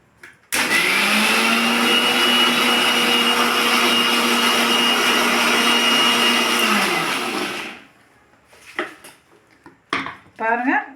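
Wet grinder working soaked urad dal into vada batter: a loud, continuous motor whir with grinding rasp for about seven seconds, then it winds down and stops, followed by brief clatters and handling noises.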